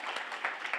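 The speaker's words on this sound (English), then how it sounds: "let's give a round of applause to our speakers" A room full of audience members applauding speakers at a Brown v. Board of Education commemoration event, a brief burst of dense clapping heard at moderate distance.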